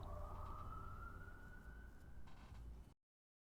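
A distant siren wails in a steady rising tone over a low rumbling background, then cuts off abruptly into silence.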